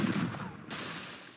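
A shot fired in a Battleship video game: a broad, noisy blast that sounds dense at first, dips, then returns as a sharp, full burst that holds and slowly fades, with no talk.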